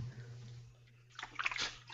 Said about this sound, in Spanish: Escucho agua.